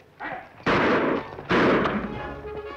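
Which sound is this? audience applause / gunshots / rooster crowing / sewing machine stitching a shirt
gunshots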